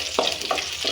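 Dried red chilies sizzle in hot oil alongside frying onions, a steady close crackle with a few brief stirring scrapes and no talk.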